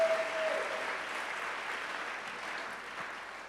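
A church congregation claps and cheers in steady, sustained applause that fades slightly over a few seconds, with a brief voice at the very start.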